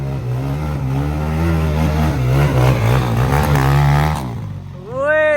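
A CX 250 dirt bike engine at 250 cc, revving loud and close with a rising, wavering drone that holds for several seconds, drops briefly, then climbs again.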